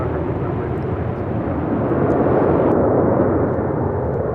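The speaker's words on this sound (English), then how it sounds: "That was American Airlines 990 taking off to Atlanta on an A321." An American Airlines Airbus A321 jet rolls on its takeoff run at Los Angeles airport, a steady, loud broadband engine roar that swells slightly toward the end, heard alone without talk.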